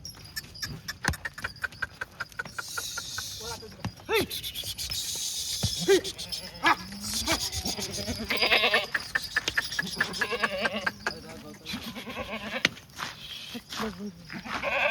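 Red Kathiawadi goats bleating at a livestock sale, several loud calls overlapping with rustling and handling noise, close and busy, with people talking among the animals.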